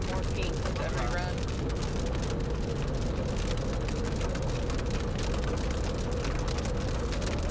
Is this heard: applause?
no